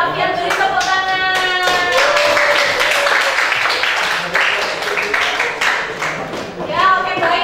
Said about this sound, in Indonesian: Mas Alfian beri tepuk tangan